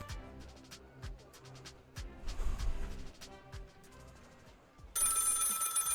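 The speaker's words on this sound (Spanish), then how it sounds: "Suena el teléfono." A telephone rings in repeated bursts in the video game Lil Guardsman amid quiet game sounds and music, ending with a louder, bright tone.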